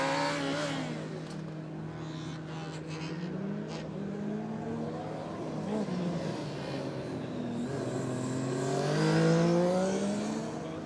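The yellow-and-black Manchester Metropolitan Formula Student race car, number 161, revs on track at a distance. Its engine pitch rises and falls as it passes, moderately faint, with commentators talking over it.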